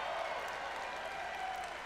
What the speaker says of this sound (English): I'm surprised Sylvanas got any applause.